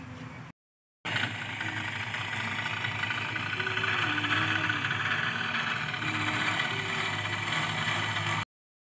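A scooter engine idles steadily up close, a continuous low mechanical hum that cuts off abruptly near the start and again at the end.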